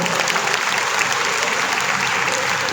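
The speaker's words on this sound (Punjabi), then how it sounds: "ਜ਼ੋਰਦਾਰ ਤਾੜੀਆਂ ਇੱਕ ਨਾਰੀ ਸ਼ਕਤੀ ਦੇ ਉੱਤੇ ਲਾਓ" Sustained applause from a large audience of women at a Teeyan fair held in a grain market, steady dense clapping throughout with no voices standing out.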